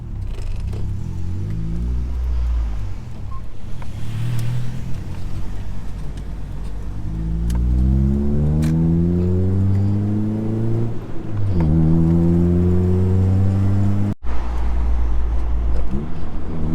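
A Honda Civic under way, heard from inside the cabin: steady engine drone, then repeated rising revs as it accelerates through gears, with a brief shift dip near the end.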